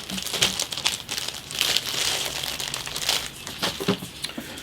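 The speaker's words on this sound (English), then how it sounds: "a small Ziploc, this one really is a Ziploc, plastic bag. And I'll just open it up" A small Ziploc plastic bag from a 1/48 scale model kit box crinkles and rustles in close, irregular bursts as it is handled and opened, with no one speaking.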